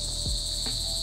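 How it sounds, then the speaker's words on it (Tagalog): Crickets in a quiet garden at a hillside resort, a steady high, continuous insect drone with no other activity, close and fairly even throughout, with a couple of faint low thumps. "Yung maririnig mo lang is yung noise ng kuliglig."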